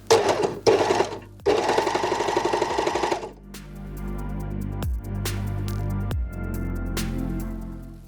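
An overlocker sews and trims a fabric shoulder seam on a bodysuit top, its blade cutting as it runs. Three loud bursts of machine whirring stop and start, followed by a lower hum with a few sharp clicks.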